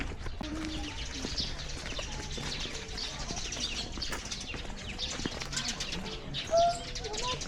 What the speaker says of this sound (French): Oh oui, il y a plein d'oiseaux.